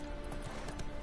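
Hooves of the horse Roach clip-clop in The Witcher 3 game, a quick run of close, rhythmic strikes over a soft background bed.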